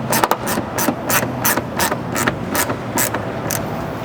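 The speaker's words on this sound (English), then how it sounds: "we'll use the 10mm socket on the socket wrench to fully fit this screw back in place" A ratchet socket wrench fitted with a 10mm socket clicks in a fast, regular series of sharp strokes while tightening a screw on a front bumper flare of a 250-series Prado, loud and close with no talk.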